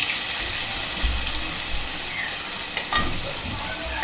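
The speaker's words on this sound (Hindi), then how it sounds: "तेल गरम हो गया। अभी हम ये प्याज, पिसा हुआ प्याज डालेंगे। इसी साथ जीरा डालेंगे।" Ground onion and cumin seeds fry in hot oil in a pan, giving a loud, continuous sizzle close by. Occasional soft stirring thumps break through it.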